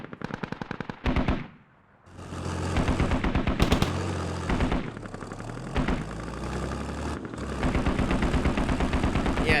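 Heavy DShK machine gun fire in the Squad game battle, loud rapid bursts of shots with brief pauses, over a steady engine rumble from an MT-LB vehicle nearby, with no talking.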